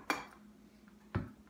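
A spoon knocks twice against the side of a dish while stirring mustard and apple sauce, making two short clinks about a second apart, close and fairly soft with no talking.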